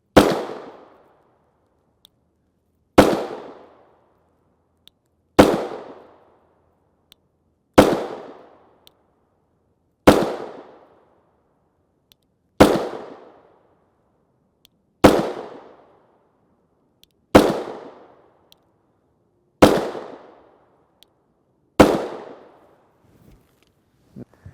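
Ten loud 9mm pistol shots from a Palmetto State Armory Dagger, a Glock 19 Gen 3 clone with a 4.5-inch threaded barrel firing MaxxTech 124-grain FMJ, evenly spaced about two and a half seconds apart, each cracking sharply then decaying.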